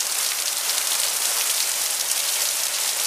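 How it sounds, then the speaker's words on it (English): Steady rain from a prairie storm in Alberta falls in a close, uniform wash of pattering drops, constant and unaccompanied by talk. "It's already been raining for about 10 minutes now."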